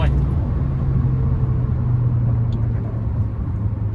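Honda HR-V engine with a remapped ECU running E20 fuel, held at full throttle in a low, steady rumbling drone that stays loud and close throughout while a person talks over it.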